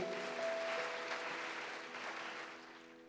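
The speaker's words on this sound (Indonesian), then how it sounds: "Beri tepuk tangan yang meriah." A church congregation at a worship service applauds steadily, the clapping fading slightly toward the end.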